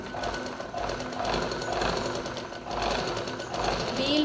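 A sewing machine winds thread onto a bobbin with a continuous mechanical whir that swells and eases in rhythmic pulses. It sits close and fairly loud, with no clear talking.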